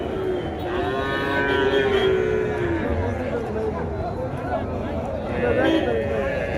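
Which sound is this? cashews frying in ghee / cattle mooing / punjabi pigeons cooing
cattle mooing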